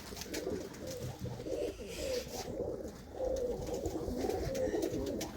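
Pigeons coo steadily in a loft, their low rolling calls overlapping in a dense close chorus with light rustling and almost no talk.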